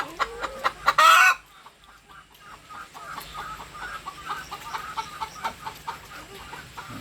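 Laying hens cluck busily inside a poultry coop, a steady chorus of short, overlapping calls with one loud, close squawking burst near the start before the flock settles into continuous mid-level chatter.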